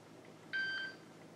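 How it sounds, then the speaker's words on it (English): A Televideo Personal Terminal dials out over a telephone line and the line rings: one brief, faint electronic tone lasting under half a second over a quiet hiss. "And it's ringing."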